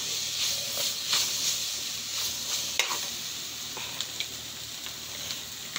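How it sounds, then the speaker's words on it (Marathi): Vegetable stalks cook in a pan for homemade noodles, giving a steady close sizzle and hiss, with occasional scrapes and clicks of stirring and no talk. "इथे मी थोडे समाराची डंठल टाकून दिलेली आहे, अशाबरोबर पकलं, हलका पकलं पाहिजे म्हणून।"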